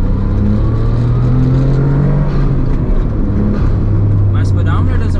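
A Suzuki Cappuccino accelerates hard in second gear on a cross-country road trip. The engine drone is loud and close and climbs steadily in pitch throughout, with a faint voice near the end.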